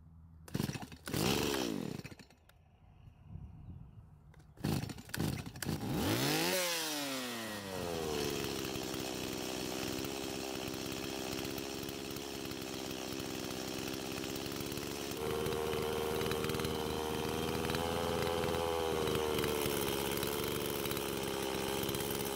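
A Stihl MS170 chainsaw with a swapped carburetor is started with a few revving bursts, then settles into a steady, loud, close running whine with a slight pitch shift partway through.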